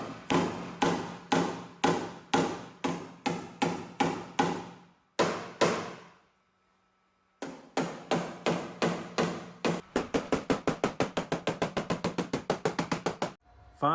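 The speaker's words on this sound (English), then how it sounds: "using the blending hammer continually" Steady metallic taps of a blending hammer on a car hood during paintless dent repair, fast and evenly spaced, pausing briefly, then resuming in a quicker rapid run of light blows on sheet metal.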